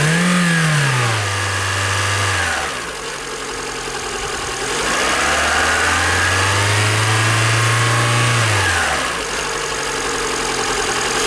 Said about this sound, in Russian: Работа двигателя на высоких оборотах.